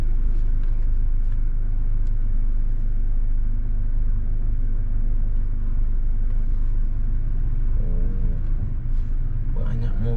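Cars and traffic rumble at a busy parking area beside a market in the Pinwin district of Batam, a steady, close and continuous roadway noise.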